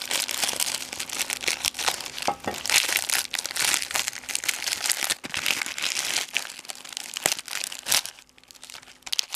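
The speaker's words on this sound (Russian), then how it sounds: "распечатаем сначала вот этот вот пакетик" Plastic packaging crinkles and rustles close up for several seconds, with sharp crackles and snips as a small packet holding a wristwatch is cut open.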